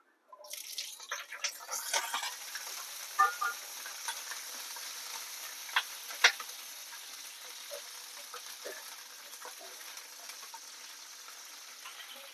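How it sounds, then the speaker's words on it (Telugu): Green chillies sizzle and crackle steadily in hot oil, a close, continuous frying hiss with scattered sharp pops and stirring clatter, with no talk over it. "దీంట్లోనే పచ్చిమిర్చి వేసుకుందాం మనము ఇదే ఆయిల్లో పచ్చిమిర్చి"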